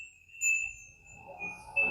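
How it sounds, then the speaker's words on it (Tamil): A vastu bell wind chime rings with a single clear metallic tone that hangs and slowly fades, fairly faint in a quiet room with a little low background murmur. "வாஸ்து பெல். இது வாஸ்து பெல்."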